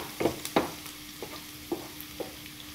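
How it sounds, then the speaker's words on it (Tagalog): Garlic and beef sautéing in a pan, a faint sizzle broken by several quick scrapes and taps of a spatula stirring the meat, close and without talk. "Gisahon lamang nato gud ang karne."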